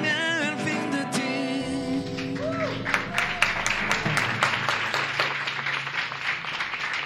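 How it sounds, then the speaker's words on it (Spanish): At a concert, a sung phrase fades out and audience applause swells, a sustained, fairly loud patter of many hands clapping that continues to the end. "Muchísimas gracias por esos buenos aplausos"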